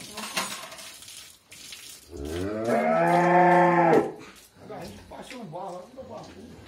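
A cow in a corral during morning hand milking gives one long, loud moo lasting a couple of seconds, with people talking before and after it.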